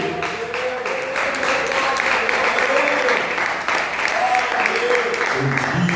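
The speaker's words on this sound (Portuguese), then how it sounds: "exalta o nome do Senhor com palmas bem alegre" A church congregation claps joyfully in praise, a continuous wash of applause with voices mixed in throughout, fairly loud and sustained.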